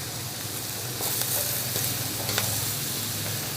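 Bottle gourd (upo) frying in a pan over a wood fire, a dense, steady sizzle throughout, with a few faint stirring scrapes rising above it.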